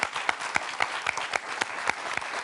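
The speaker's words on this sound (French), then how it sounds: "qu'on va applaudir notre double champion Frédéric" A studio audience on a French quiz show claps in a rhythmic, unison beat, sharp regular hand claps over a softer bed of scattered applause.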